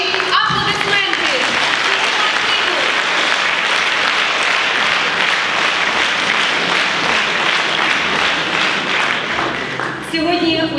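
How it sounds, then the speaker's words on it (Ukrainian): An audience at a concert hall anniversary concert applauds in a dense, even wash of clapping that holds steady for about ten seconds, then tapers, with voices briefly at the start and end. "І ваші аплодисменти!"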